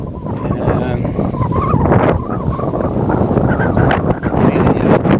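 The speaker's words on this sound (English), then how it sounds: "you can hear the wind blowing" Wind blowing steadily outdoors in a garden in spring, a constant loud rush buffeting the microphone with gusty swells throughout.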